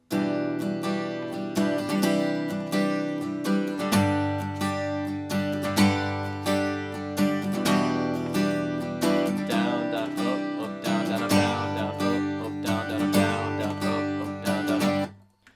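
Steady strummed acoustic guitar chords in a bouncy repeating rhythm, up close and alone, with a few chord changes before ringing to a stop.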